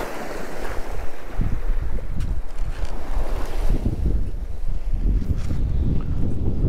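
A southwest wind buffets the microphone while waves of the Taganrog Bay wash and churn against the shore at Yeysk, a continuous loud roar of open water and gusts.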